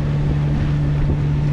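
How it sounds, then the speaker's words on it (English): A sailboat's engine drones steadily while the boat motors along, its low hum mixed with gusty wind buffeting the microphone. The sound is loud, close and continuous, with no pauses. "right now we're just motoring, charging up the batteries a little bit to get some clear air"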